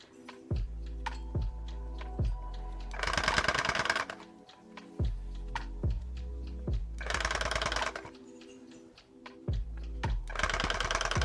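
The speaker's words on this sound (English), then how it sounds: "I have a machine that's doing this. I feel like it's embroidery." A yarn machine stitching mug rugs in an embroidery-like way runs in three loud bursts of rapid mechanical chatter, each preceded by separate clicks and thumps, with quieter pauses between them.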